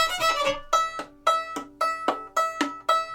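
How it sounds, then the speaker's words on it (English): Knuckles rap on the hollow wooden body of an Acadian fiddle, a sharp knock repeated about eight times with a resonant ring after each, close and alone. "you have to hit the fiddle 4 times"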